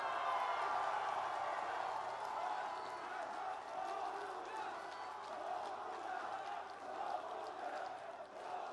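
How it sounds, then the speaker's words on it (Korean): A large crowd roars and cheers continuously at a former president's homecoming event in Bongha Village, South Korea, with applause and whistles blending into a dense, steady wall of noise. "여러분, 다시 한번 뜨거운 함성과 박수 부탁드리겠습니다."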